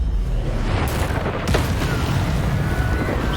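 Confringo fire spell blasting in Hogwarts Legacy, a dense, loud, continuous roar of explosive rumble with a sharp crackling burst midway, layered over constant heavy low-end noise.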